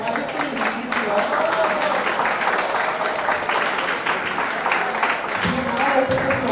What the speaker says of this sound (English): please give a round of applause to these wonderful ladies here